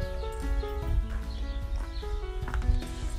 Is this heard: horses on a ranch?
yes